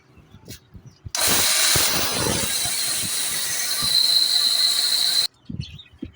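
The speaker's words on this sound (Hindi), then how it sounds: "ये देखें अभी हम इसे चलाते हैं जी मशीन को, और इसको करते हैं ग्राइंड" An electric grinding machine grinding animal feed ingredients starts abruptly, roars loud and steady with a high whining edge for about four seconds, then cuts off, with clatter before and after.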